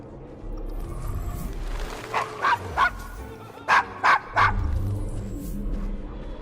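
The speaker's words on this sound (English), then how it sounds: "Is your dog quite all right?" A dog barks in Assassin's Creed Syndicate, set in the Devil's Acre slum of Victorian London: two clusters of three sharp, fairly close barks over a low ambient rumble and background murmur.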